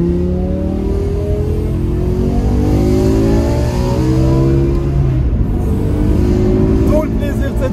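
The naturally aspirated V10 of a BMW M6 E63 accelerates in repeated rising sweeps, loud and close from inside the car, with a gruff low rumble underneath and talking over part of it.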